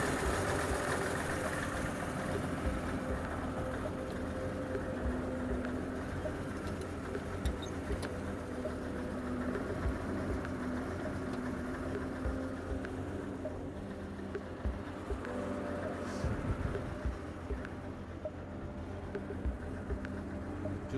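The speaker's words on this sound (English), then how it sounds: "With the car running, checking again for fuel leaks." A 1925 Franklin car engine idles with a steady, low, even rumble that stays unchanged for the whole stretch, heard close by with no one talking.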